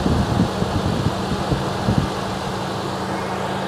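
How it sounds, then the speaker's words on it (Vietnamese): A 2010 Toyota Innova G engine idling at close range, a steady low hum with faint irregular knocks early on, heard alone without talk. "Máy nổ êm."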